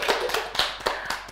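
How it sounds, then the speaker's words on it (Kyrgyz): Audience applause at a Kyrgyz dance-competition TV show, a brief burst of claps with several sharp peaks, fairly close and loud, with no talk over it. "Азаматсыздар, кол чабуулар."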